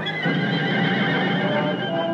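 Horses neighing and whinnying in a loud, sustained call close by, with faint hoof clatter underneath and no talking over it.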